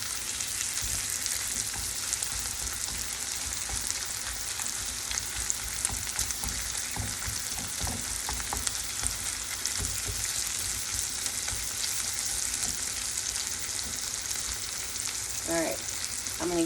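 Chorizo rendering down in a hot pan gives a dense, continuous sizzle and crackle with occasional stirring scrapes, loud and close, with no talk.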